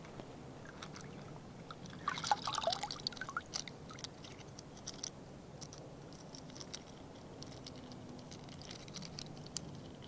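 Beach finds are swished and washed in ocean water, soft sloshing and splashing close by, strongest in a brief flurry, over a low steady surf background.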